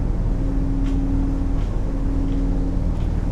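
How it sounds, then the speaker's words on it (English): The twin engines of a Hampton Endurance 680 yacht run at wide open throttle on a choppy sea, a loud, steady low drone with a constant hum and occasional splashes of water against the hull. "Wide open throttle now."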